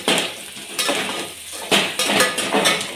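Tomatoes go into a pan of frying onions, green chillies and whole spices for chicken biryani. A metal spatula clatters and scrapes against the pan in a few close, sharp bursts over a low sizzle.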